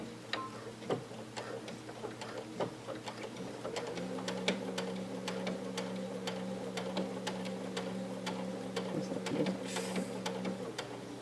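A sewing machine stitching an invisible zipper onto a doll dress, its motor humming under a run of quick mechanical clicks and ticks, fairly quiet and close, with no talking.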